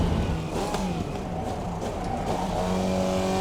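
A Formula Vee race car in the iRacing simulator drones steadily and loudly at close range, its engine note holding with small shifts in pitch and a faint edge of tire noise, with no talking.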